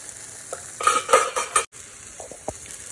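Potatoes fry in a pan with a bright, close sizzle, broken by scraping and stirring clatter of a utensil against the pan, then settling into a quieter hiss with a few knocks.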